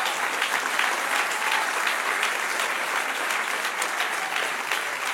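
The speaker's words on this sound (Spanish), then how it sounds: "Dele un aplauso" Church congregation breaking into loud, steady applause, a dense wash of many hands clapping for several seconds in an indoor sanctuary, with no speech over it.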